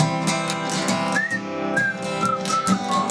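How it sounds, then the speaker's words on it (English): A person whistles a wavering tune, steady and close, with sliding notes over a backing of instrumental music. "I'm whistling because I forgot my C harmonic."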